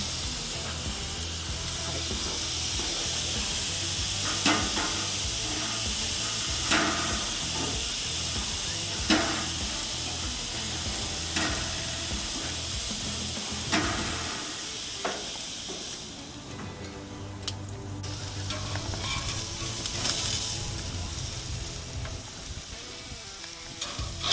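Steak in a Jack Daniels and Coca-Cola marinade sizzles on a grill, a loud, steady hiss with scattered crackles and pops running throughout, the texture shifting briefly partway through, with no voices.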